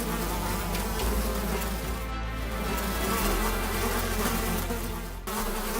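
Bees buzz around a lion in the wild, a loud, dense, continuous insect drone filling the whole clip with no pauses.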